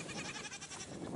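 Goats bleating on a small farm, a wavering quivering cry heard faintly at a moderate distance for about a second.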